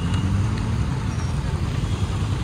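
Road traffic crawling through a heavy monsoon downpour, a dense, steady roar of engines and wet road noise with no distinct single vehicle standing out.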